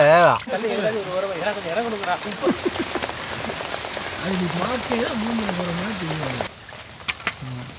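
Steady rain patters on a surface throughout, with people talking over it and a brief quieter stretch near the end.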